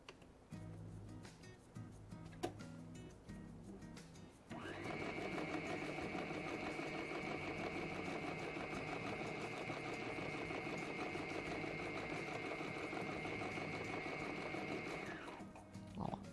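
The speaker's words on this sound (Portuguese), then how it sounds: "Cortei e vou costurar agora no outro sentido." A sewing machine stitches kimono fabric in one long continuous run of steady, rapid mechanical whirring, loud and close, starting after a few seconds of quieter handling noise and stopping near the end.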